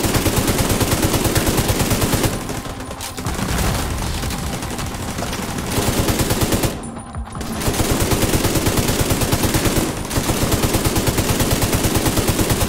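Rapid automatic fire from a deployable skill turret in The Division 2, loud and sustained in long bursts with two brief pauses, close and dominant with no voices.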